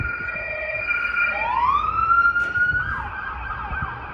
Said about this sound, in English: These sirens is crazy.